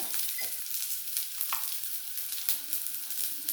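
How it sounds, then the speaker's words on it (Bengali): Garlic paste meeting onions already well fried in a pan gives a steady, fairly quiet sizzle with light scraping and stirring clicks scattered throughout. "পেঁয়াজটা আমার বেশ ভাজা হয়ে গেছে, এবার আমি দিয়ে দেবো অল্প একটু রসুন বাটা।"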